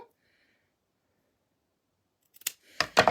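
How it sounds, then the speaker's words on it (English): After long near-silence, scissors snip through Dollar Tree ribbon in a few sharp, close cuts clustered at the end. "Let me just cut my ribbon, my tail."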